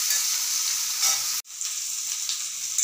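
Prawns, turmeric-and-salt coated, frying lightly in oil in a pan, a steady close hiss that cuts out briefly midway and then resumes, with no talking.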